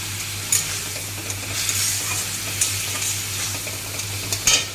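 Prawns sizzle in a frying pan with a steady crackling hiss, punctuated by a few sharp spatters and scrapes close by.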